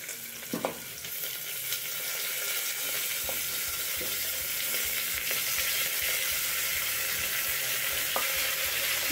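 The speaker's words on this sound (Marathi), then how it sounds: "हाय फ्लेमवरती आपण 2-3 मिनिटं तेलावरती सॉटे" Tomato soup ingredients, including chopped ginger and garlic, sizzle in hot oil in a pressure cooker over high flame, with a steady close frying hiss and occasional stirring clinks.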